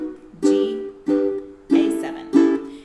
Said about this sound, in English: And you're strumming down two times for each chord.